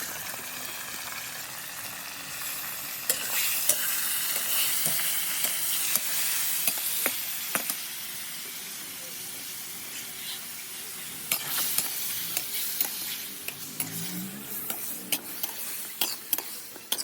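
Chicken added to a pan of browned onions fries with a loud, steady sizzle and hiss, with scattered clicks and scrapes of stirring and sharp pops throughout.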